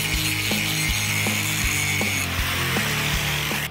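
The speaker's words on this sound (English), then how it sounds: "Then it's more clean up with the wire wheel and the grinder." A grinder with a wire wheel whirs against steel, a harsh high hiss over a low drone with regular rhythmic ticks, close and loud.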